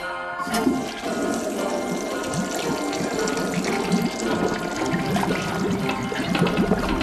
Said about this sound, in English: Never in any movie have I ever seen this many signs not to flush a toilet.